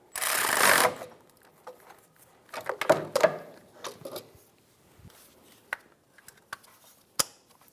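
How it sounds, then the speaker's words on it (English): A 14mm socket snugs down a nut on the alternator of a 2003–2007 Infiniti G35: a brief rushing burst, then scattered metallic clicks and taps, close and uneven, with quiet gaps between. "snug down the nut"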